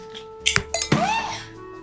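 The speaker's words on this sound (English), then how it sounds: "I want 3 ice cubes again." Ice cubes clink into a glass while a cocktail is made on Boracay Island, with several sharp clinks in quick succession followed by a ringing, rattling settle.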